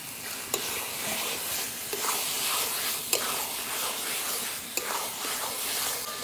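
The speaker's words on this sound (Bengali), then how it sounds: "আলু দিয়ে একটু নাড়াচাড়া দিয়ে নিয়েছি" Fried potatoes are stirred into a sizzling spice masala at an outdoor village picnic, a steady soft hiss broken by four evenly spaced clinks of the spoon against the pot.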